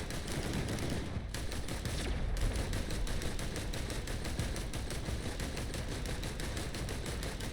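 Rapid bursts of gunfire in a video game, a dense continuous rattle of shots running loud and unbroken throughout, with only a couple of momentary gaps near the start.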